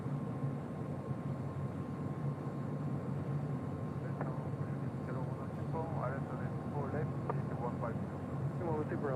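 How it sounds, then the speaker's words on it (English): A Korean Air Airbus A380 arrives at LAX, its engines giving a steady, fairly distant roar while people talk over it. "our next arrival on the north side is the Korean Air A380 Super"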